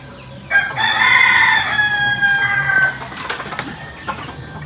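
A rooster crows loudly nearby, one long drawn-out call with rising and falling harmonics, followed by fainter background noise.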